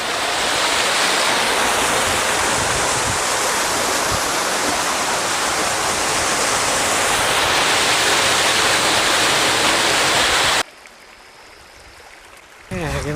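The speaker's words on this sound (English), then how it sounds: "Little slot waterfall." Steady broadband rush of water pouring through a small slot canyon waterfall in Utah's Grand Staircase-Escalante, loud and continuous, cutting to near quiet briefly near the end before resuming.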